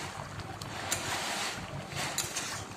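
Water in a pan with bitter gourd and mustard paste curry comes to a boil, a steady close hiss of bubbling with small pops and swells, no talking.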